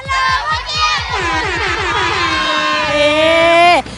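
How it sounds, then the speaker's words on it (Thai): Loud crowd of supporters at a Thai football match cheering and whooping together, with shouted rhythmic chants and a sustained roar that swells near the end before cutting off abruptly. "คนกองเชียร์กันมาดังกระหึ่มมากเลย"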